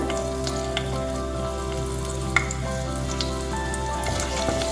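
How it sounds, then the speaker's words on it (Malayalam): Two or three garlic cloves sizzling in a little hot oil in a pan, a steady close crackling fry with a faint low hum beneath and one sharp tick partway through. "അതിലോട്ട് ഒരല്പം എണ്ണ ഒഴിച്ചിട്ടുണ്ട്. ഞാനിതിലോട്ട് 2-3 വെളുത്തുള്ളി ഇടുകയാണ്."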